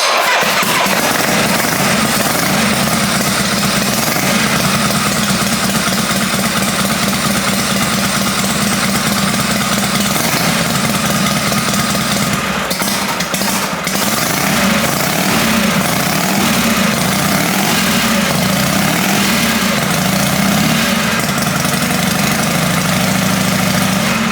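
A Harley-Davidson Shovelhead motorcycle engine runs loud and close, settling into a steady rumbling idle throughout with a slight change in tone partway through, and no talking over it.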